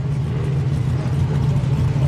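Off-road racing vehicle in the 4500 Yukon Gear and Axle modified class on a qualifying run at Chocolate Thunder, its engine holding a steady, loud mid-low drone with no talk over it.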